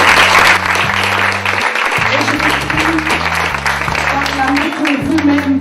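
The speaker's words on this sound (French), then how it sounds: "Je vous prie d'acclamer l'équipe qui travaille d'arrache-pied depuis plusieurs jours" Audience applause at a live event, loud dense clapping from a crowd held steadily throughout, with music playing underneath.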